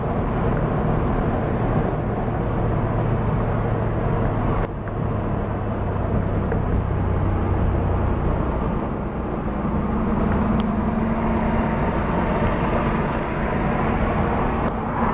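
A Porsche drives along the George Washington Parkway, a continuous loud interior engine and road drone with steady tire rumble throughout, no talking.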